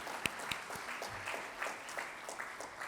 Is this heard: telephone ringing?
no